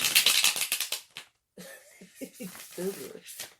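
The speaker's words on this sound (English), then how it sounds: "Some loud shuffling there, lady." Tarot cards shuffled in a quick run of rapid, crisp riffling flutters close by, then a pause before people start talking.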